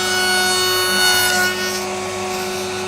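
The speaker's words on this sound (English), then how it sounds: "I've got the router at full speed for all of the dovetails" A wood router runs at full speed, about 24,000 RPM, cutting dovetail joints for a classic toolbox, giving a loud, steady high-pitched whine with a slight surge near the middle.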